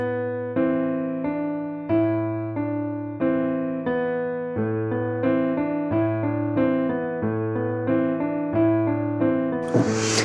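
Piano finger dexterity exercise with half notes and then quarter notes in the left hand, played as a steady series of clear, evenly spaced notes and chords that ring close and alone, ending in a brief noisy burst.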